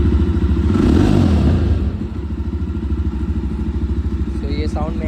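A Jawa Bobber 42 motorcycle with a loud exhaust revs up in a basement, the engine swelling briefly then settling into a rapid, thumping idle; loud and close, with a faint voice near the end.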